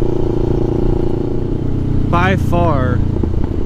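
A 700 Sport motorcycle fitted with an S&S slip-on exhaust idles close by with a steady, deep rumble that runs throughout, while someone speaks over it.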